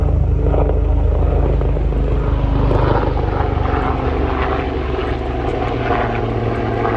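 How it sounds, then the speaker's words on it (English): A propeller airplane passes overhead outdoors, a steady loud engine drone with a low hum that holds throughout without fading, no voices over it. "I think that plane is signaling the end of our reading."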